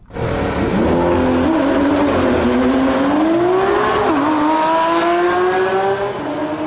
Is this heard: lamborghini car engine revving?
yes